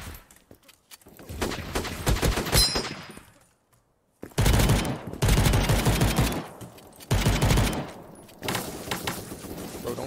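Rapid gunfire bursts in the browser shooter Krunker.io, loud close fusillades in several clusters separated by brief silences, with no talk over them.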